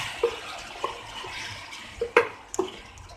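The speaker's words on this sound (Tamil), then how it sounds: "இதுல கொஞ்சமா தண்ணி சேர்த்துக்கலாம்." Water added to melted sugar caramel in a hot pan while making caramel vermicelli payasam, giving a soft, spread-out hiss with a few sharp spitting pops and bubbling clicks scattered through.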